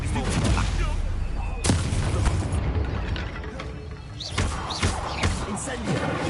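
A Bombarda spell from Hogwarts Legacy bursts in a few heavy blasts and thuds, loud and close, over ongoing combat noise with a voice speaking amid the impacts.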